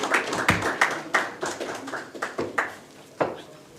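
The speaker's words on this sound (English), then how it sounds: "Let's applaud her as she comes to the podium" Scattered audience clapping greets a woman walking to the podium at a health agency launch event in Nairobi, uneven claps rising and fading in a modest room.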